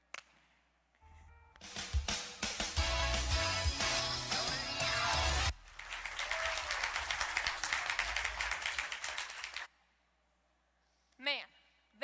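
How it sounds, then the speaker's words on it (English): Audience at a large FFA convention session breaking into a burst of clapping on a count, loud and dense for several seconds, then a second wave of applause before it cuts off to near silence. "Maybe if we clap again, it'll go."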